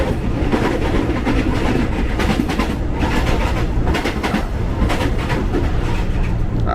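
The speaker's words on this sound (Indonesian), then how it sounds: "Asik deh papasan sama KRL Inka." KRL commuter trains on the Depok to Bogor line pass each other, including a KRL Inka unit. The loud, continuous rumble carries rhythmic wheel clatter and rushing noise, with no voices.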